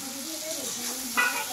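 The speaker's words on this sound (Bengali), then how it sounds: "এইভাবে ব্রেনটা দিয়ে আমি কিছুক্ষণ এইভাবে ভাজছি" Mutton brain fries in spiced oil in a pan with a steady, close sizzle, and a brief utensil scrape comes near the end. No one speaks.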